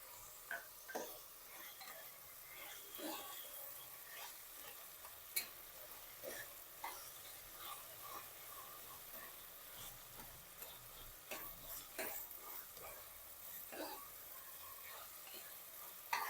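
Capsicum sizzling in oil in a pan while being stirred, with quiet frying under repeated light clicks and scrapes of a spoon against the pan.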